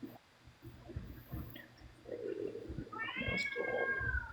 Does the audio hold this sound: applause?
no